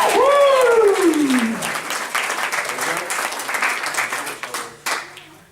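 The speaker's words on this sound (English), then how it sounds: "Give him a big round of applause." A comedy club crowd at a student venue breaks into loud, close applause with cheering. A whooping shout rises at the start, then dense clapping carries on under voices and fades slightly with a few sharp claps near the end.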